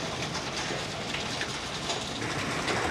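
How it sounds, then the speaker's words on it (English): Hail and rain pour steadily outdoors as a dense, continuous hiss and patter, loud and unbroken throughout, with no voices. "it's hailing and raining, and this is what's happening."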